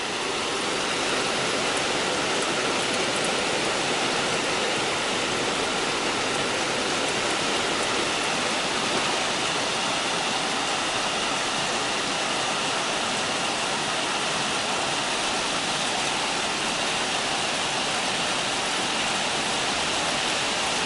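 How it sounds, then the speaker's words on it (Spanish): Heavy rain from a storm in Alicante pours down steadily, a dense, unbroken hiss that continues unchanged throughout. "Lluvia en Alicante"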